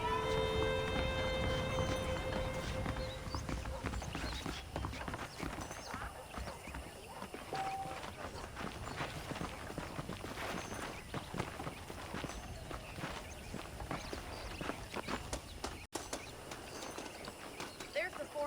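Horse hooves clip-clop steadily in Red Dead Redemption, with occasional whinnies and a faint bird call over a continuous game background, the rhythmic hoofbeats carrying on for the whole stretch.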